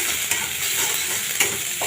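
Ginger garlic paste frying in a pan with onion, stirred with a spoon: a steady close sizzle with a few short scraping stirs, and no one speaking.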